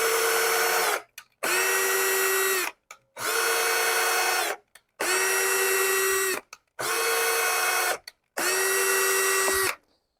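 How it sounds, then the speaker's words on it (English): A power drill bores a hole in PVC pipe for a homemade hydroponic system: six loud, steady whirring bursts of about one to one and a half seconds each, separated by brief silent pauses, with no talking. "3 attempts at drilling the hole just right for the threads"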